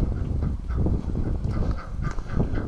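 A duck, or a goose, in a pen honks and calls repeatedly at close range over steady wind noise, with no talking.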